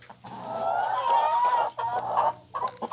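A chicken clucks repeatedly at close range in an outdoor setting, a run of loud, drawn-out clucks and squawks with brief pauses between them, with no voices present.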